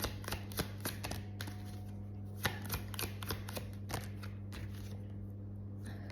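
Tarot cards being drawn and shuffled produce a quiet run of crisp, irregular flicks and snaps over a steady low electrical hum.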